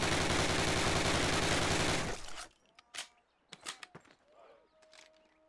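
Rifle shots fired at a target in the Call of Duty video game: a dense burst of rapid gunfire for about two seconds, then several separate sharp shots with faint tones between them.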